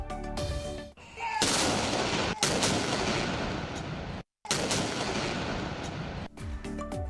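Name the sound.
31-gun salute artillery fire, Pakistan Day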